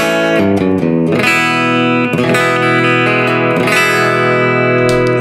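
A clean electric guitar plays through the Valeton GP-200LT multi-effect unit's amp model based on a Fender 65 Twin Reverb, with bright sustained chords and notes ringing loudly with reverb.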